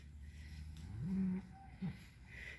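A cow lets out a low, drawn-out moo on a farm, followed by a shorter second moo, close by and clear over a steady background hum, with no talking.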